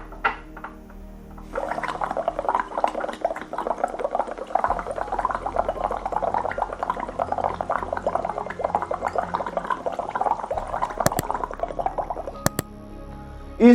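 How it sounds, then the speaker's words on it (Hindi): Steady bubbling gurgle as breath is blown slowly through a straw into a glass of water for a lung breathing exercise, running continuously for about ten seconds with a few clicks near the end. "पाइप के द्वारा आपको लंबी सांस धीरे धीरे धीरे धीरे छोड़ते रहना है और पानी के माध्यम से ये एक्सरसाइज करनी है।"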